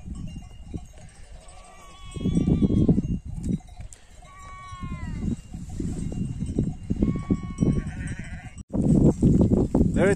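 A flock of sheep bleats repeatedly in an open pasture, with several overlapping calls near and far, mixed with rustling and handling noise and some intermittent talk or background voices.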